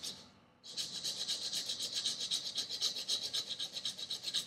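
Knife blade stroked repeatedly across a coarse abrasive stone while convex sharpening, giving a steady rhythmic rasping scrape after a brief quiet start, close and fairly loud with no talk.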